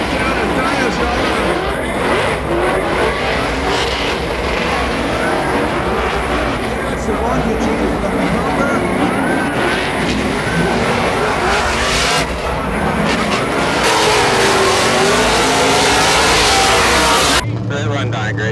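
Formula Drift race car drifting hard at a Seattle event, engine roaring continuously with tire squeal and skidding throughout, loud and close, with crowd and commentary noise underneath before an abrupt cutoff.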